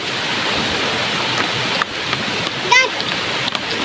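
Steady rain falls outdoors in a rural Visayan setting, with a constant hiss of drops and splatter, a brief bird-like chirp and voices.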